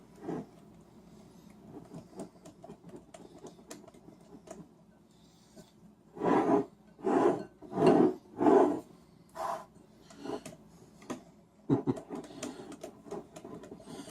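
No-bake cherry cheesecake filling is stirred in a bowl. A burst of about six rhythmic scraping strokes comes midway, with quieter faint handling sounds before and after.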